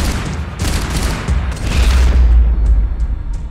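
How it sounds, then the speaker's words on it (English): A burst of gunfire in Max Payne 3, rapid overlapping shots and booms fading into a low rumble, with no talk. "It's gunfire over Hoboken."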